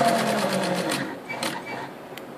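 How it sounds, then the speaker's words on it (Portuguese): Singer sewing machine (241 to 249 series) stitching zigzag, a fast rhythmic mechanical clatter close by that slows and fades toward the end, followed by a few light clicks. "Então se eu trouxer ele todo para cá, ele vai fazer o zigue-zague"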